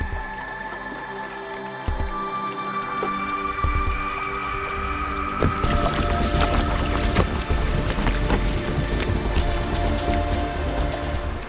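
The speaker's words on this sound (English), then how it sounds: "The sound of bubbles popping, the sound of ice grinding against itself." Floating icebergs and glacial ice in Antarctica's Sierra Cove fizz with popping air bubbles and grind against each other, dense crisp crackles and clicks that thicken and grow louder after a few seconds, with no voices.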